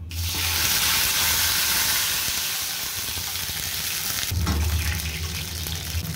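Water poured into hot oil with crackling sesame seeds, a loud and steady sizzling rush close up. It flares up again part way through.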